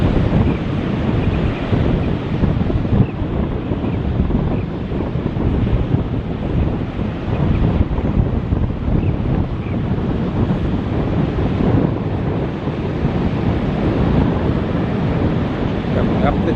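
Surf and breaking waves in a channel where boats run the gap, a continuous loud roar of rushing water with heavy wind buffeting the microphone throughout.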